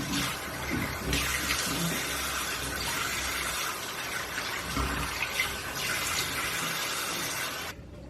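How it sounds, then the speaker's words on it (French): Tap water runs steadily into a basin while a face peel is rinsed off, a continuous hissing splash with slight surges and faint handling sounds, stopping abruptly near the end. "je vais ensuite aller me rincer"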